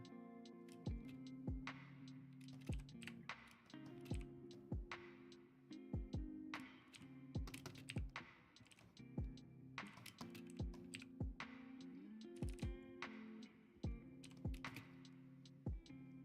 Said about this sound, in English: Keyboard ASMR and light music and art.